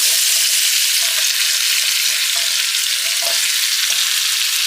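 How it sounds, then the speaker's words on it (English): Vegetables sizzling in butter in the bottom of a pot of beef short ribs, a loud, steady, close frying hiss with faint crackles throughout and no talking. "gonna add in a little bit of butter to help break it up. And add in our vegetables"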